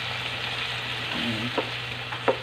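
Boiled pork frying with garlic in a pan after being drained, a close, even sizzle with light spatula scrapes and a couple of soft knocks near the end.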